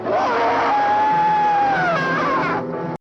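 A person lets out a long, loud scream that holds and wavers for about two and a half seconds before cutting off abruptly.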